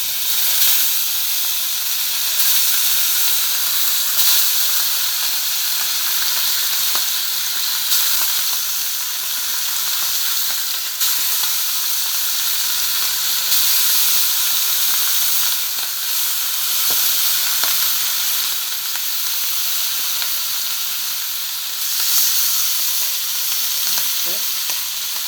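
Hilsa fish sizzles steadily in a pan of hot oil, a dense continuous frying hiss with occasional crackles and faint utensil clicks, close and loud throughout with no talking.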